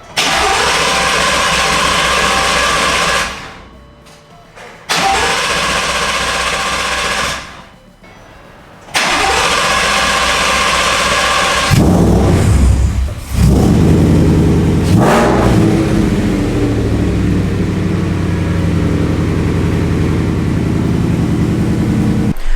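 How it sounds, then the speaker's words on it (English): A 2020 Ford F-150 with a 5.0 Coyote V8, retuned for headers, cranks over twice with gaps between tries, then catches and settles into a loud, steady close-up idle with a brief rev. "Then put this on the tripod and start it up."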